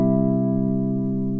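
A guitar chord struck with fingernail and fingertip flesh together rings out full and sustained, fading slowly for a brief moment with no talking.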